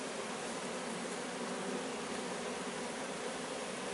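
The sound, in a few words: bees buzzing at a hive in a chimney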